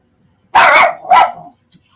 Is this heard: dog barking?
yes